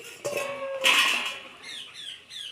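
A lid comes off a pot of simmering koi fish curry with potatoes, giving a metallic clink and scrape followed by a few faint squeaky steam or bubbling sounds, close and fairly quiet.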